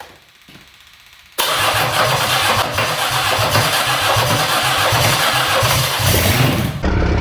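A 1982 Oldsmobile 4.3 litre V6 diesel that has sat unused cranks briefly, then catches and starts, running loudly and roughly at a rumbling idle close by, with no one talking.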